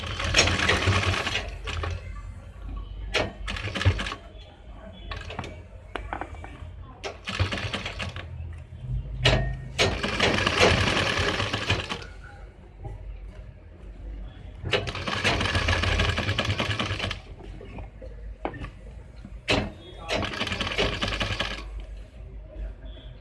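A sewing machine stitches the collar onto a men's kurta in quick whirring bursts of rapid needle chatter, separated by short pauses and handling noises. Someone speaks in places between the runs.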